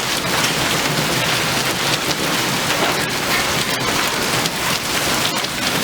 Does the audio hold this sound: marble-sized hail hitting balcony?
yes